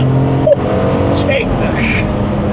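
A BMW E46 M3 pulls hard on an open road, its engine note climbing as it accelerates, heard close from inside the car while occupants talk over it.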